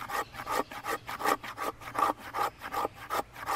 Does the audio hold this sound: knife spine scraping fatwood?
yes